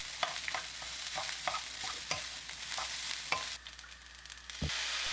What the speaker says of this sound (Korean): 밥을 넣어 잘 섞이도록 볶아주세요. 골고루 섞이고 밥이 알알이 고슬고슬해질 때까지 볶아주면 됩니다.